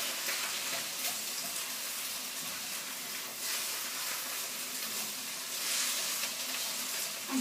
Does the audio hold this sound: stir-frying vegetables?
yes